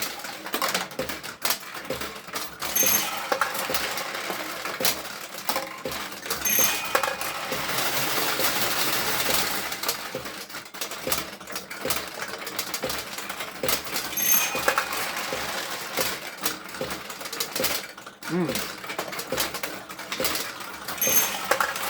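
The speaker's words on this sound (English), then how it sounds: "what you're hearing on the back side of the machine there when I'm shooting and all the jackpots are coming out" Restored early 1970s Nishijin Model A pachinko machine in play, balls shot and jackpot payouts clattering in a dense, continuous metallic rattle with sharper jingles throughout, heard close and fairly loud.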